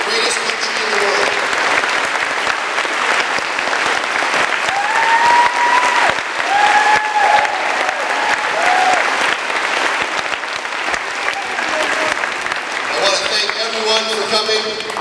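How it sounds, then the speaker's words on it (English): An audience at a Richmond Middle School Veterans Day ceremony applauds loudly and continuously, a dense wash of clapping with scattered whistles and cheers mixed in. "Everyone, please give a round of applause for all who gave and are giving the greatest sacrifice"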